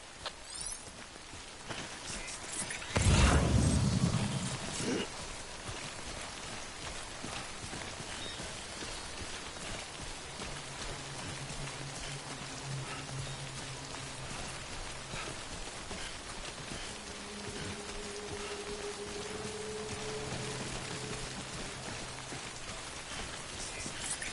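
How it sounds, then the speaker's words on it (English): Steady rain pours throughout in the video game Death Stranding, a dense, even hiss with a brief louder burst near the start and faint tonal game sounds drifting underneath. "Good thing it was raining."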